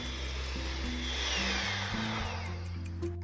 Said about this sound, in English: we're going to beat the egg whites on high for about 5 minutes, give or take a couple, until we get those stiff peaks